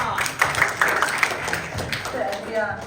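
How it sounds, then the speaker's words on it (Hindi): Audience applause at a comedy skit performance, a burst of clapping from a crowd mixed with voices and murmuring, fairly close and moderately loud across a few seconds. "पिक्चर के लिए जोरदार तालियां।"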